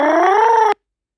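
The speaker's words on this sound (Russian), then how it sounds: "Коты не умеют рычать, они умеют шипеть." A cat's drawn-out, rising caterwaul-like growl, loud and close, holding for under a second before cutting off abruptly into silence.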